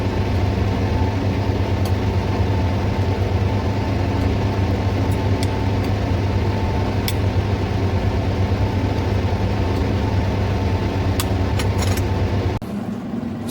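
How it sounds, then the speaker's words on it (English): An orbital shaker runs at 60 to 80 RPM in a lab, holding hairy root culture flasks of broth. It gives a steady, fairly loud low hum with no talk, and it cuts off abruptly near the end. "So here I have kept it in the orbital shaker"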